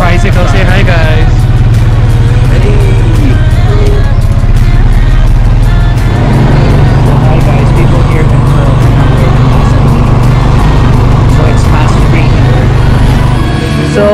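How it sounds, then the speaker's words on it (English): A motorized tricycle rumbles loudly and constantly while riding through Coron, Palawan, the engine drone and road noise filling the whole stretch as people talk over it. "So we're heading now to Carl's barbecue. We're riding a tricycle."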